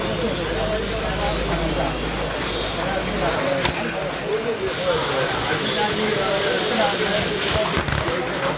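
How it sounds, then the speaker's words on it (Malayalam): Steady broadband hiss of heavy rain in Vadasserikara fills the whole clip, with a brief sharp crack near the middle and faint voices underneath. "ഭയങ്കര മഴ കേട്ടോ"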